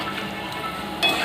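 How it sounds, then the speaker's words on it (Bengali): Food being stirred in a frying pan while it sizzles steadily, with a brief clink of the utensil against the pan near the end; close and fairly quiet. "Okay, then I stir it"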